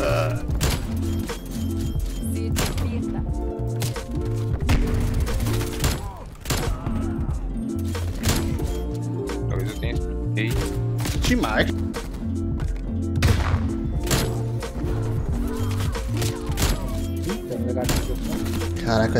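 Rapid video game gunfire in a multiplayer shooter, repeated bursts and single shots crackling over game music and effects, with a player talking excitedly throughout.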